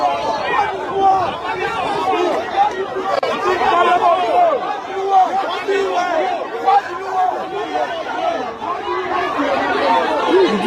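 Dense chatter of a political rally crowd, many overlapping voices forming a steady, fairly loud babble close by, with no single voice standing out and no pauses.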